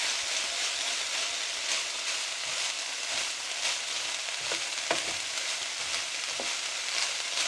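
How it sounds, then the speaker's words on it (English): Hoisin pork and vegetables stir-fry in a hot pan, producing a dense, even sizzle throughout with occasional sharp clicks and taps from the utensil, close up and without talk. "continue cooking this until the veggies are cooked, basically, until the pork has browned off quite nicely"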